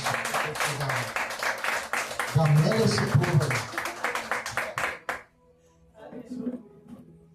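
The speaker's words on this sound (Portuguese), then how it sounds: "Você bate palmas para Jesus" A church congregation claps hands in praise during a service, a steady rhythmic burst of many hands that stops abruptly before a voice speaks.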